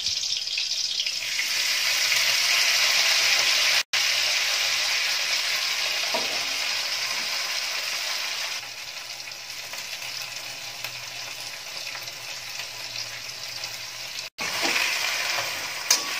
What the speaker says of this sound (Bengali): এবার এর মধ্যে শাকটা দিয়ে দেবো।